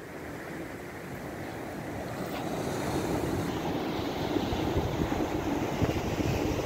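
Waves wash steadily onto Noppharat Thara Beach in Krabi, Thailand, a continuous soft surf roar with wind buffeting the microphone, building slightly louder midway and staying even, with no voices.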